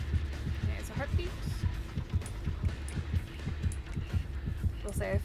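Steady, rhythmic heartbeat from the horror video game Dead by Daylight, with a low thumping pulse repeating about twice a second throughout, accompanied by faint game sounds and brief bits of background noise.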